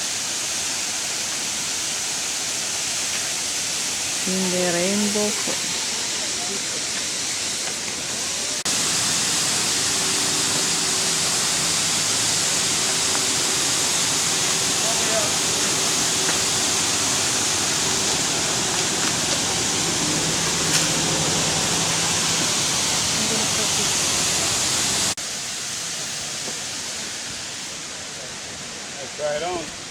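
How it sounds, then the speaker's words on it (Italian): Waterfall along the road to Hana on Maui, Hawaii, a steady broadband rush of falling water that holds throughout, louder and closer in the middle stretch, with brief speech and voices over it. "Splendide cascate."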